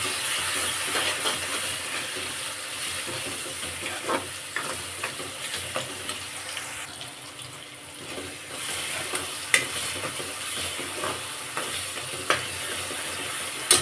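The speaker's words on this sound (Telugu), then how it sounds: "కొంచెం పసుపు వేసి ఒకసారి మిక్స్ చేసి" Turmeric gets stirred into a pond-fish curry with drumsticks in a hot pan: a continuous crackling sizzle with a spoon scraping and knocking at intervals, up close and alone.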